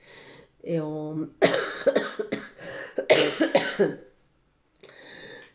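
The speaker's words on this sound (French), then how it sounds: "Tu as remarqué, hein, je tousse." Several harsh coughs in a row, close and fairly loud, with a throat-clearing voiced sound before and after.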